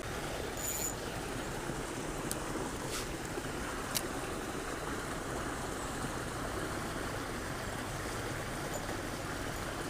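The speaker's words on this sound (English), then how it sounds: "Usually this creek is deeper than this, but water, summertime, you know, water has been very low." A low shallow creek in summer gives a steady, even rush of flowing water, with a few faint ticks and clicks over the constant wash and no voices.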